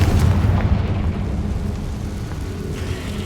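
A deep rumbling blast from the Confringo spell in Hogwarts Legacy, loud at the start and then fading into a long, low, thunder-like roll with no talk over it.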